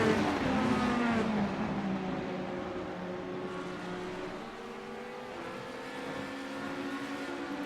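A Porsche GT3 race car engine drones steadily at high revs while running in another car's slipstream on the Jerez circuit, the pitch sliding slightly downward then holding, loud and continuous with no one speaking.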